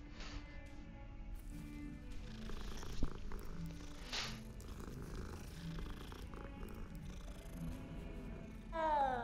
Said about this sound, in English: Is there a cat? Yep, it's sleeping though, we shouldn't wake it. Oh no, it woke up